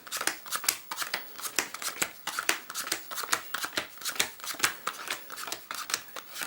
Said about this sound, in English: we'll deal them into 6 piles of cards